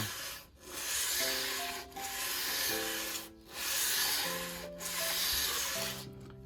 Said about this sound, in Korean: 톱질을 해서 잘라낸 이 단면 부분을 가볍게 샌딩을 해주면 되겠습니다